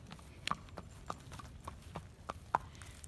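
A horse's hooves clip-clop at an unhurried, uneven pace on a hard floor as it is led into a stall in the evening, faint and close, with a few sharper knocks.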